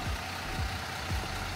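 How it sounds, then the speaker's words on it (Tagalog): A Victory Liner Volvo B8R first-class bus idles with its 8-liter, 330 hp Volvo D8C common-rail Euro 5 engine, giving a steady low rumble with soft periodic pulses, close and even throughout. "Tahimik ang makina dahil naka-common rail engine na ito."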